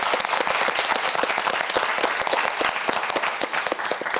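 A studio audience at a televised Korean science quiz show claps in a dense, steady burst of applause, close and sustained throughout.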